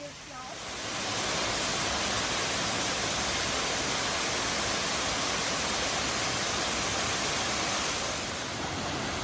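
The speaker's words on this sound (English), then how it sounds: "We have this pretty little cascade." A small waterfall cascade on a forest walk in Kanchanaburi, Thailand roars as a loud, steady broadband rush of falling water, close and continuous throughout.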